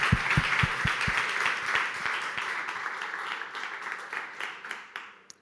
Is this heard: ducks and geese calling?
no